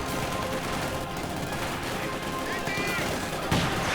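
MG42 machine gun fire in a World War II strategy game, with bursts of gunfire and battlefield noise over a dense, constant din of combat, and a loud impact near the end.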